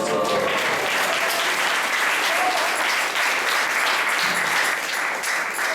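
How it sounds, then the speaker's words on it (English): Steady, dense applause from a congregation at a Sunday temple class, sustained clapping that continues evenly for several seconds without voices on top. "So let's give a round of applause for Baba Jai Mataji and Ganesh Ji."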